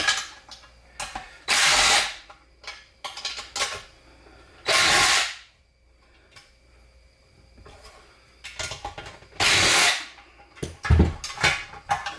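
Recoil pull starter being removed from a Coleman mini bike engine, with several loud bursts of ratcheting, rattling mechanical noise and smaller clicks and knocks between them, close by and with no talk.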